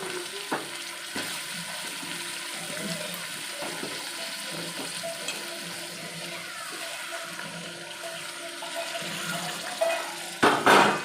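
Beans, brinjal and green chillies frying in a pan for sambar rice, a steady close sizzle with occasional stirring scrapes, louder bursts near the end.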